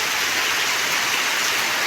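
Steady heavy rain falls over a village lane near a mosque, a dense, loud, even wash of noise without pause.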